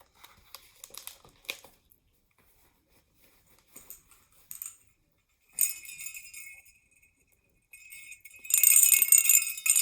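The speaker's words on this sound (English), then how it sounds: "I hope you can hear the bell" Bright, tinkling bell-like chimes in scattered bursts separated by quiet pauses, ending in a louder shimmering jingle.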